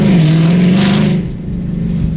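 A Ford Shelby GT500 V8 rumbles loud and close with a steady deep drone that eases off slightly partway through.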